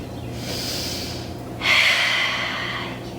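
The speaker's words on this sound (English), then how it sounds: "Take a falling out breath" Two audible breaths during a home vinyasa yoga flow: a soft inhale, then a louder, forceful breathy exhale, close and unaccompanied by speech.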